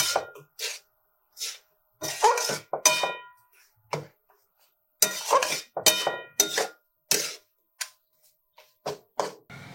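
Palm-fruit chutney with sugarcane jaggery stirred in a metal pot, heard as sharp, irregular clinks and scrapes of a spoon against the pot, loud and close with short silences between strokes.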